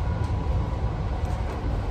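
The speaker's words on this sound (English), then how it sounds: "When they're departing, they're a lot quieter than the past 150s" A Transport for Wales Class 230 train pulls away from a station with a low, steady rumble, fairly quiet and even throughout.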